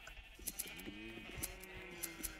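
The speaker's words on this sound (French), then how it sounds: "Et puis les moutons." Sheep in the video game Minecraft give a couple of wavering bleats at low volume, mixed with soft clicks and faint background tones.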